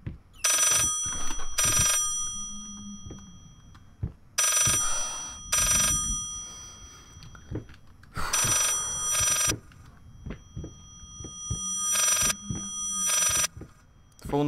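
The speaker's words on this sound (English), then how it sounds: "The phone's ringing." Telephone bell ringing in the horror video game Layers of Fear, sounding in four separate bursts of two or three shrill rings each, loud and close, with quiet ambience and thuds between them.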